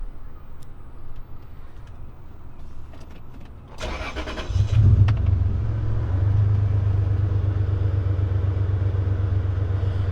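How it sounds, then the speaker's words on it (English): A 2000 Toyota 4Runner Limited Supercharged starting up: a short crank, then the engine catches and settles into a steady, deep exhaust idle that hums on loudly and evenly. "Exhaust has a pretty cool tone to it."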